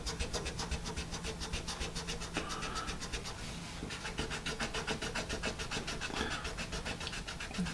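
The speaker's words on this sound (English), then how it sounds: "The eraser, the attached eraser, here you can see how it did." A pencil's attached latex-free eraser rubs back and forth on paper in steady, rapid scratchy strokes, close and continuous, with no talking.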